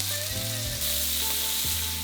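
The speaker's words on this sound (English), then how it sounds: "watching a beef sear" Beef searing in a hot pan for a French red wine beef stew makes a loud, even sizzle and hiss close by. A steady tone runs underneath, and there is no talking.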